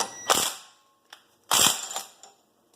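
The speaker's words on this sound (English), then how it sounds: "Just use your big impact gun, should break it free." A big impact gun breaks free a 36 mm axle nut on a 1988–98 K2500 truck during brake work, in two loud close hammering bursts, the second longer, with a brief clack between them.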